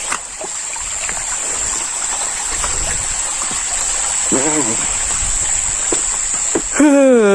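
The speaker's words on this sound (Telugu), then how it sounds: "ఇది ఫైనల్ వాటర్ ఫాల్స్ గాయస్" A small hidden waterfall in rocky terrain near Hyderabad, a steady broadband rush of falling water held throughout at close range, with brief voices and a short whistling tone near the end.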